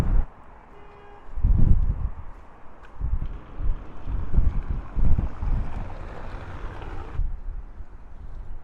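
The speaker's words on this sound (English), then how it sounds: "It's very windy." Strong wind blows across an open, exposed spot, buffeting the microphone in deep, gusty rumbles that rise and fall in waves without speech.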